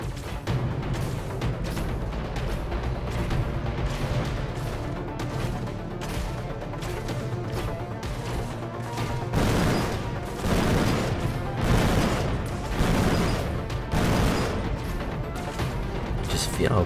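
Explosions and weapons fire from the robot combat video game Armor Attack, with repeated booming blasts and crashing impacts that grow denser in the second half, heard under someone talking throughout.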